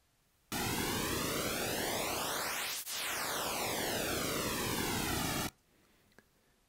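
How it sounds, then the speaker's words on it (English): A through-zero stereo flanger sweeps over a steady, loud noise-like tone for about five seconds, its comb-filter whoosh rising and falling and collapsing through the zero point midway before stopping abruptly into near silence. "you can hear we've now got a through zero flanger, which is a stereo effect"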